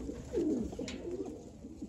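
Pakistani pigeons kept in a loft cooing softly, a low throaty burbling call rising and falling over about two seconds, faint and close with no talk.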